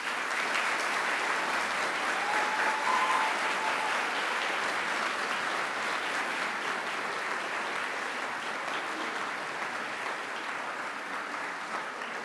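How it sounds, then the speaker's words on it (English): Graduates at a university graduation ceremony give their families and friends a sustained round of applause. The clapping is dense, even and crowd-wide, steady for about twelve seconds with a large hall feel and no talk over it. "Please give them a mighty round of applause."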